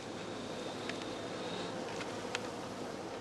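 Honey bees humming around straw skeps, a steady, soft insect drone with a few brief louder buzzes as single bees pass close.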